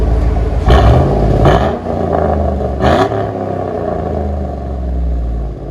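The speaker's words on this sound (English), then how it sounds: "That's how old Chevy should sound." A Chevy Tahoe 5.3L V8 with no muffler revs loud and raw in several sharp bursts over a deep, continuous rumbling idle, close by with no other sounds.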